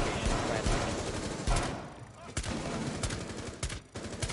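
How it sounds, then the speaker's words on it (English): Rapid bursts of automatic gunfire crackle through a Rainbow Six Siege match, loud and nearly continuous, with sharper single reports standing out, under excited voices of players talking. "Shoot that dude already,"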